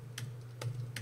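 Three soft, separate keystrokes tap on a computer keyboard, faint and close, over a low steady hum with no talking.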